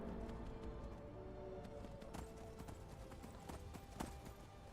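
A horse clip-clops along while being ridden in Skyrim, faint and steady hoof hits repeating in an irregular gait over a low ambient rumble, with a few sharper clacks standing out.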